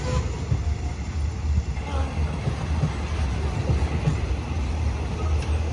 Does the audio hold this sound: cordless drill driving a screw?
no